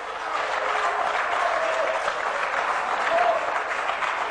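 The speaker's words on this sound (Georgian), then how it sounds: "ჯერ ტაშია დასასრულებელი" Members in a parliamentary session hall applaud in a dense, steady round of clapping that carries on evenly without pause.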